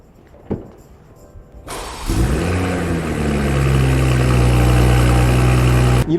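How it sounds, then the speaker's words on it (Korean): A BMW X3 M40i fires up after a short quiet stretch, its start surging into a loud, steady, deep exhaust idle that fills the rest of the clip. "시동을 걸고 이 차의 엔진 소리와 배기 소리를 좀 들려드리도록 하겠습니다."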